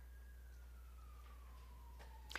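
An ambulance siren wails in the distance, one long falling tone sliding down steadily, faint and far off against a low background hum, with no talk.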